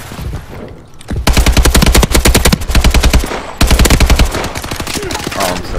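Loud rapid automatic gunfire in the video game Call of Duty: Advanced Warfare, three long bursts of fast shots with short gaps, over dense game background sound.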